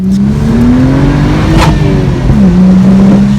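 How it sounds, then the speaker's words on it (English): A BMW M235i F22 with a ZF transmission shifting into 2nd gear under acceleration, a loud, close engine drone whose pitch climbs and then drops as the gear changes, with a brief rough grind around the shift. "you hear kind of like a small grinding before the gears find their place and then mesh and then go"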